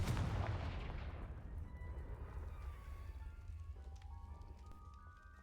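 A Confringo spell blast in the video game Hogwarts Legacy lands as a loud booming burst, then a crackling, debris-like tail that fades over several seconds.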